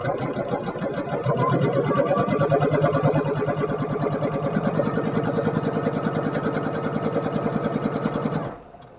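Sewing machine running steadily, stitching a 1/4 inch seam along bias-cut fabric for a stuffed carrot, a fast even mechanical chatter close by that runs for several seconds, then stops abruptly.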